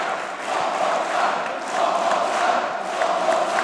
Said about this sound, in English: The crowd wants more.